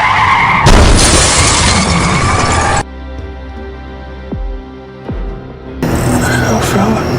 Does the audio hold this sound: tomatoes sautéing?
no